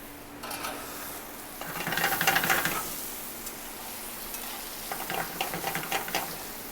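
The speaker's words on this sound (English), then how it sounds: "Kind of let those potatoes fry." Potatoes frying in a pan for a steak dinner at a kitchen table, a steady low sizzle with brief bursts of stirring and clinking around the middle and end, fairly close and quiet, with no talking.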